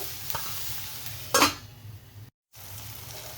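A spoon stirs tomato curry in a pan over a low, steady sizzle, with one sharp scraping burst midway and a brief gap of silence before the gentle frying resumes.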